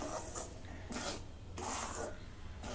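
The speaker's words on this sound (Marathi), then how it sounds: "आता ह्याला अजून मी 2 मिनिटं परतून घेते." A thick semolina rava vadi mixture stirred and scraped in a pan, rhythmic rasping strokes of the spoon against the metal, close and steady.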